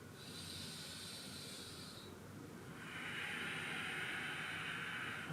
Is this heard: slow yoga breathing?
yes